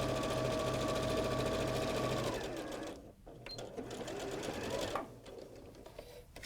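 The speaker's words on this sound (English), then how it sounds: "So you want to have a little back stitch at the top there." A domestic sewing machine hums steadily for a couple of seconds, then slows and stops into short bursts of back stitching with faint handling noises, close and fairly quiet.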